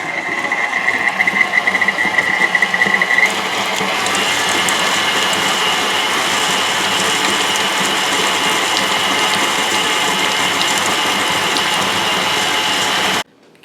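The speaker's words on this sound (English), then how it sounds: "let's put this in the mixer and turn it on." Electric mixer whipping softened cream cheese, a steady mechanical whir with a rattling, gear-like texture that runs loud and continuous before cutting off abruptly at the end.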